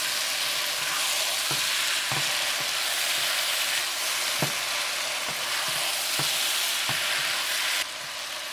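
Beef and tofu stir fry sizzling in a hot pan, a steady loud hiss of frying broken by periodic soft clacks of a utensil stirring, with no talk.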